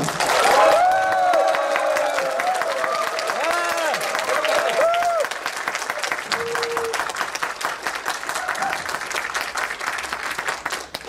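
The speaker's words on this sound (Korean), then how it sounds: "23년 만에 이렇게 큰 박수는 처음 받아본 것 같습니다." A large lecture-hall audience applauds and cheers loudly for a comedian's motivational talk, with sustained clapping under rising shouts and whoops that fade into steady applause.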